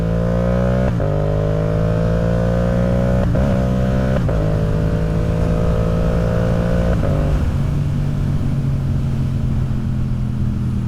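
Yamaha R7 motorcycle cruising on a road, its engine droning steadily and loud close by, with brief pitch dips at gear changes and a wind-like rush throughout.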